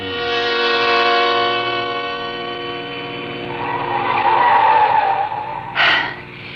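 Radio drama sound effect of a car driving fast on a mountain road, a loud steady engine roar that rises in pitch, then a sharp tire squeal near the end.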